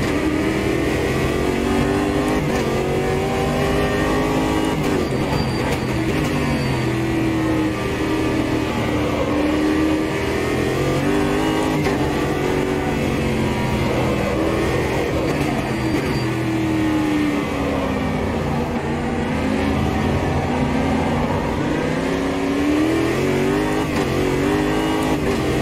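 A race car engine in the sim racing game Automobilista 2 revs and climbs through the gears continuously, loud and close, with wavering pitch as the car brakes and accelerates, without talk.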